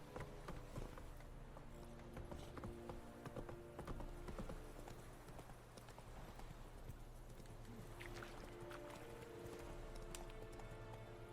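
Horse hooves clip-clop steadily in The Witcher 3: Wild Hunt as the mount is ridden, a continuous trotting rhythm with game music and ambience beneath.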